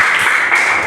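A classroom of students applauds a presenting group, brief dense clapping that stays loud and close for under a second with no voices.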